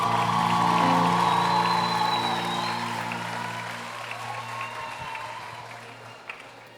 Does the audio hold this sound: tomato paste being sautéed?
no